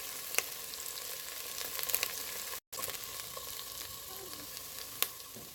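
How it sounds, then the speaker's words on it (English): Diced onions fry in a pan for green shrimp fried rice. A steady, dense crackling sizzle runs throughout at close range, with a brief dropout partway through and a few sharp pops, and no one speaks. "I'm going to add in the diced onions at this time"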